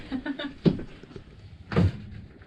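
The door of a rented 2020 Thor Majestic 28A Class C motorhome from Cruise America is pulled shut, giving two close thuds about a second apart after a brief rattle.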